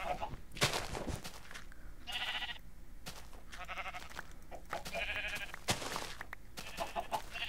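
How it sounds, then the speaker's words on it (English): Minecraft sheep on an oversized farm bleat several times in short separate calls, fairly close and moderately loud, with faint background sounds between them. "I'll probably later on dye these sheep"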